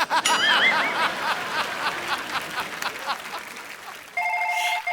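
A phone rings with a bright warbling electronic tone at the start, chuckling and soft laughter follow, then a steady electronic ring returns near the end.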